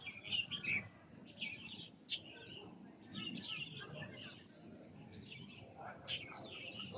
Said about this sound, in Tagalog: Ayan, may mga ibon.